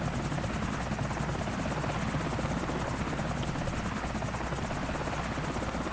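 A Blackhawk military helicopter flies in the GTA IV video game, its rotor and engine making a steady, even whirring drone that stays at one level throughout with no talk.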